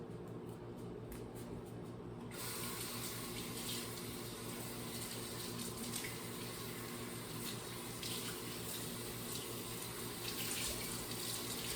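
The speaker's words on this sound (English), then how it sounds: "I'm going to start getting my t-shirts wet in the sink here" Tap water runs into a sink to soak t-shirts before dyeing, starting as a soft trickle and then opening into a steady, loud rushing stream that continues to the end, with no talking.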